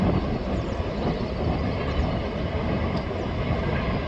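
A Norfolk Southern heritage unit locomotive leads a train past on an elevated curve in Vermilion, Ohio, a steady, loud, close rumble of engine and rolling wheels with no pauses.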